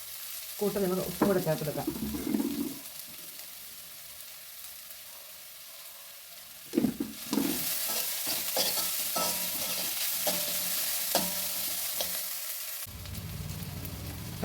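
Sliced onion with crushed ginger, garlic and green chili sautés in oil for a Kerala-style egg curry, with a steady close sizzle and repeated scraping stirs, while someone talks at the start and midway.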